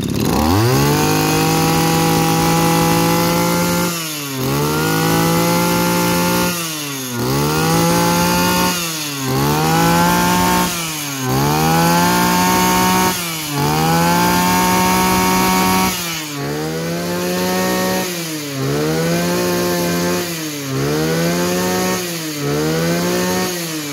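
A G2K engine revs repeatedly in rising and falling bursts, loud and close, cycling roughly every two seconds with brief dips between pulls.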